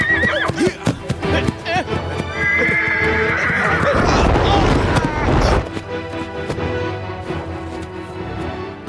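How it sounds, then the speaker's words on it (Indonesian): A horse neighs loudly in a long, shrill whinny amid hoof clip-clop and thuds, with people shouting around it in a period drama scene. "Kenapa dengan kuda itu?"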